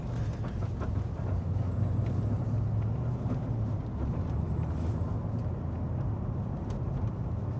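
A car engine with a Chopper Reid camshaft and CNC heads coasts back down to 1,000 RPM in fourth gear, a steady low rumbling drone inside the cabin with road and wind noise and no voices.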